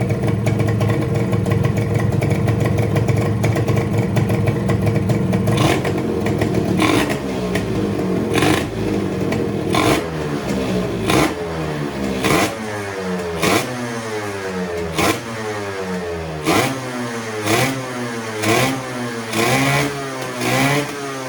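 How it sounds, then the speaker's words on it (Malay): A Modenas Dinamik 120 motorcycle engine with a carburetor intake hose fault sputters, catches and runs, then revs repeatedly in rhythmic bursts, loud and close throughout. "kita start motor dulu, kita tengok boleh start ke tidak"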